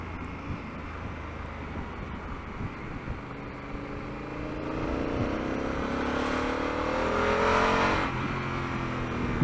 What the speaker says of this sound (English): That's some really nice torque there. Punchy motorcycle, huh? It pulls really well.